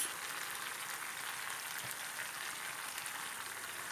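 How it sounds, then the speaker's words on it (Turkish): Chopped tomatoes sizzle steadily in olive oil in a pan on the stove, a dense, even frying hiss that continues without a break at close range. "Doğramış olduğumuz domateslerimizi ilave edip pişiriyoruz."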